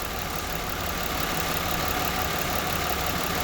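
A Jaguar X-Type 3.0L V6 runs at slightly raised revs during a coolant drain and bleed, making a steady, close, continuous engine drone with no break.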